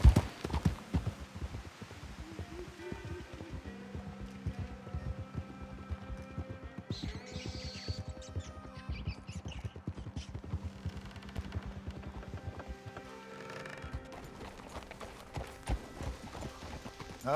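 Horse hooves clip-clopping at a steady walking rhythm in Red Dead Redemption 2, close and continuous for the whole stretch, with soft game ambience and a brief whinny-like sound in the background.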